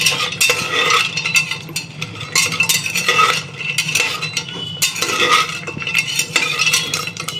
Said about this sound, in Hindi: ये हो गया ऑयल गरम और इसमें हो रहा है बड़ी फ्राई